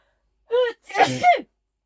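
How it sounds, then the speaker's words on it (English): A single loud sneeze close to the mic, with a short breathy intake just before the sharp burst. "I'm going to sneeze"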